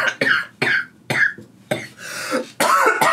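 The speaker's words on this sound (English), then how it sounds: "I didn't mean to start coughing" A series of harsh coughs and throat-clearing bursts, close and loud, coming in quick irregular fits with brief pauses between them.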